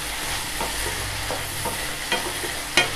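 A spoon stirs vermicelli upma frying in a pan, giving a steady close sizzle with several soft scraping strokes and a sharper clack near the end, with no talking.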